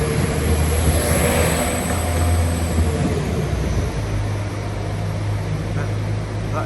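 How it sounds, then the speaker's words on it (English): A freight train rolls down a steep railway gradient, a continuous loud low rumble and drone of wagons and locomotive with a shifting deep tone partway through, steady with no pauses. "Freight train going down the bank, quite steep that"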